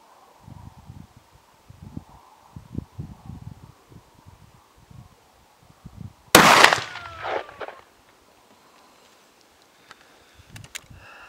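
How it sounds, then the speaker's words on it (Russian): A TOZ-34 shotgun fires a single Azot slug outdoors: one sharp, loud blast with a brief echoing tail, standing out over faint rustling and wind. "Итак, последний, третий выстрел"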